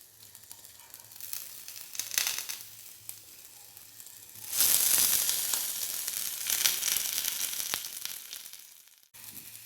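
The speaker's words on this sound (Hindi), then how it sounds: "इस पे आप स्टिक्स को थोड़ी देर फ्राई करेंगे हल्की आग पे।" Chicken shashlik sticks fry on low heat with a crackling, spitting sizzle that swells into a louder, denser burst midway and then cuts off abruptly at the end.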